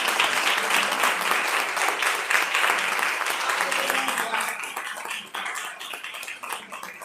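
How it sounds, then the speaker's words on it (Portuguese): A church congregation claps during a family worship service, steady dense applause that thins and turns more scattered toward the end, with a few voices underneath. "Mais uma vez as palmas do Senhor."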